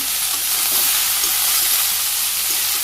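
Chicken curry sizzles and hisses steadily in a pan as it is stirred with salt, turmeric and chili powder, a dense close frying sound without speech.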